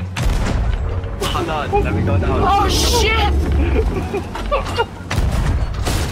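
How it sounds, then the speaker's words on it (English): Ship cannons boom in heavy, repeated blasts at the Kraken during a Sea of Thieves sea battle, loud and close, with excited players shouting and talking over the shots. "Shoot it with cannons!"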